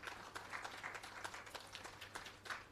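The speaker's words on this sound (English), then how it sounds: "I think we should give them a little round of applause." Faint applause from an audience at a company's employee service awards ceremony, a steady spatter of scattered claps with no talk over it and a low hum underneath.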